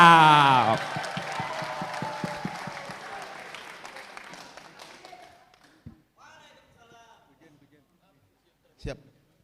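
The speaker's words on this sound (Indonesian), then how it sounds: "boleh tepuk tangan" An audience at an open student dialogue in South Kalimantan applauds Anies Baswedan, dense clapping that starts loud and fades out over several seconds, with a voice mixed in early and a few isolated thumps afterward.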